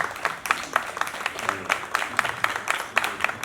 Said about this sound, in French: Est-ce qu'on peut applaudir pour Hicham, s'il vous plaît?